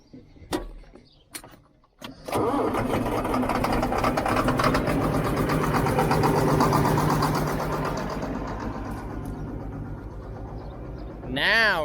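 A farm tractor's engine cranks and catches after a couple of brief attempts, then runs loud and steady at idle for several seconds before a voice speaks over the fading rumble at the end.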